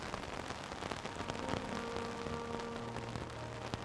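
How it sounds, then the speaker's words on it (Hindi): Heavy rain pours down steadily, a dense, even hiss of drops pattering on surfaces with no breaks, fairly quiet overall. "बारिश का कहर बढ़ता जा रहा है।"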